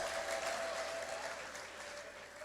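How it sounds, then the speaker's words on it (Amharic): A church congregation applauds, a dense steady clatter of many hands clapping that fades slightly toward the end, fairly quiet overall. "አጨብጭቡ ለሱ ለእግዚአብሔር ክብር ይሁን"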